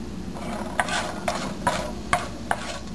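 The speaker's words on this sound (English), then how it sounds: "5 cardamoms, 4 cloves, and stirring just a little bit." Whole cardamom pods, cloves and a bay leaf are stirred in a pan for a fish curry, giving a faint steady sizzle broken by about five light scraping clicks of the spoon, close and unaccompanied.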